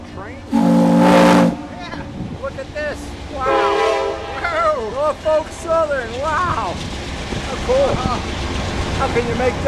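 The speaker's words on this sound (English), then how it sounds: "There's the train up there." A train near a river sounds a long horn blast, heard from aboard the American Queen steamboat, then rolls on as a rumbling background while people talk over it.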